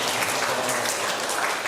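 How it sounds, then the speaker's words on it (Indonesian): Applause at a school teaching session: a dense, steady burst of many hands clapping at once, loud and close, lasting under two seconds. "Oke, beri aplaus dulu sana."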